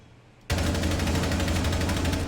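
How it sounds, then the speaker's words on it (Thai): Automatic gunfire shooting into a room in Rainbow Six Siege, starting abruptly after a short quiet moment and continuing as a loud, rapid, evenly spaced stream of shots. "เรายิงเข้าในห้องครับ"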